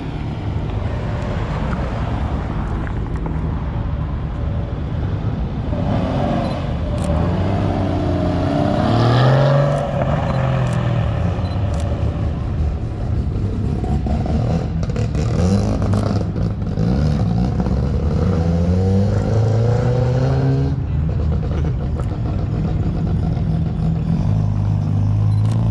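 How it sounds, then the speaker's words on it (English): Several rotary-engined cars pull away at a budget-build car meet, their engines rising and falling in pitch as they accelerate off, steady and fairly loud throughout with a few overlapping passes. "Couple of rotaries leaving"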